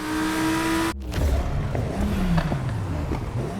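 Audi R8 with a 5.0 engine in the racing game Need for Speed Heat, a sharp cut into a revving engine that rises and falls through gear changes, with a whooshing pass and tire noise.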